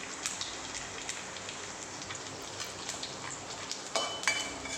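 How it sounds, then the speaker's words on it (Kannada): Cardamom, cloves and cinnamon fry in oil on a low flame, a faint, even crackle and sizzle with a slightly livelier stir near the end. "ಹಾಕಿ ಸ್ವಲ್ಪ ಚೆನ್ನಾಗಿ ಫ್ರೈ ಮಾಡಿಕೊಂಡು ಸಣ್ಣ ಉರಿಲಿ ಫ್ರೈ ಮಾಡ್ಕೊಳ್ಬೇಕು"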